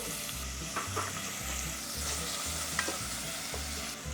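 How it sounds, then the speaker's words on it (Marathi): Chopped capsicum being stirred as it fries in an electric rice cooker for pav bhaji, a steady sizzle under repeated scraping strokes of the spoon, close and moderately loud, no talking. "त्याच्यात आता आपण ही जी आपली सिमला मिरची घेतलेली आहे चिरलेली ती आपण याच्यामध्ये घालून घेऊया."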